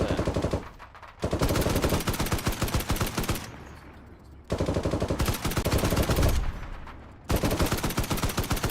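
Video-game gunfire in Arma on the Chernarus map: loud, close automatic bursts, several in a row, each broken by short pauses.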